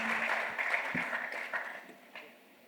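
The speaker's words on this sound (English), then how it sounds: "give these gentlemen a big round of applause" Audience applause for panel speakers at a hedge fund event, a steady broadband patter of many hands that swells early, then thins and fades toward the end.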